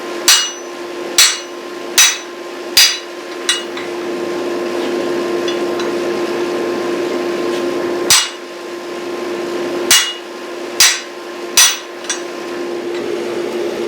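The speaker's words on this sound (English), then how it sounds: "we're going to use a guillotine tool with a set of Fullerig dies." Hammer blows drive a railroad spike through guillotine-tool fuller dies at a blacksmith's forge: five quick ringing strikes, a pause over a steady hum, then four more spaced metallic hits, loud and close.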